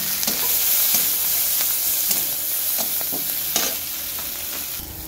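Panch phoron, dried red chili, chopped onion and garlic frying in hot oil for a homestyle potato curry, a loud continuous close-up sizzle with occasional scraping stirs of a spoon through the pan.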